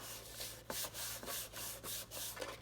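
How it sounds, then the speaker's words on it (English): Layers of paper card for a box card are burnished by hand: quiet, close rubbing strokes repeated in a steady rhythm, about five passes in a row. "Again, burnish all sides."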